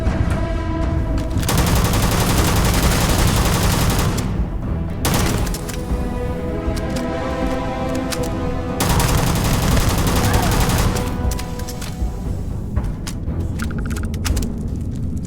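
Sustained heavy gunfire in the Starfield video game, loud and close, with long continuous automatic bursts separated by brief pauses and booming impacts mixed in.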